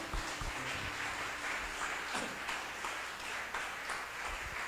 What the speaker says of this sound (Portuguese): Vamos dar um aplauso por isso ao Senhor, vamos?